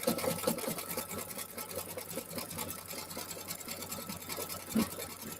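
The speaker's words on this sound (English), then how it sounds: "We're gonna finish stitching our binding on." A sewing machine stitches binding onto a quilted winter landscape organizer, giving a quiet, even run of rapid needle chatter that keeps going without a break and swells briefly near the end.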